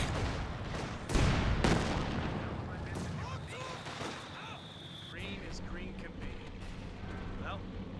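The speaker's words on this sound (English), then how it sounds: "His mortar's still doing work" Mortar shells and artillery booms in a Company of Heroes 2 1v1 match, a few heavy blasts early then distant thuds and gunfire under a commentator's voice.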